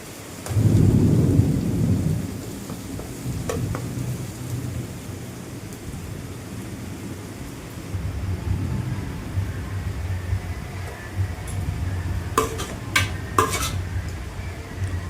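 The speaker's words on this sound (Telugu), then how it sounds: "మంచి బ్రౌన్ కలర్ వచ్చే వరకు వేయించుకుందాము. మధ్య మధ్యలో కలుపుతూ చూసుకుందాము." Pepper chicken fries in oil in a pan until browned and is stirred now and then, giving a steady sizzle with a heavy low rumble at the start and metal spoon scrapes and clinks toward the end, close up, no talking.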